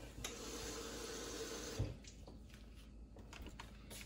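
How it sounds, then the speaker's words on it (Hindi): Water pours steadily into a bowl of dried hot chillies to soak them, a continuous close splashing stream that stops after about two seconds, leaving faint drips and small handling noises. "2 कप पानी में इसको भिगो देंगे और इसको 30 मिनट तक भीगा रहने देंगे।"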